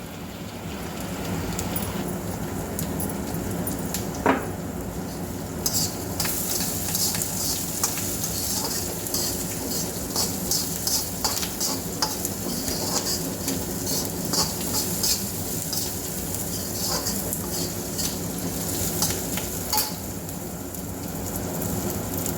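Crushed garlic frying in a pan for a ragi flakes tempering, a steady close sizzle with scattered crackles and a few stirring scrapes throughout.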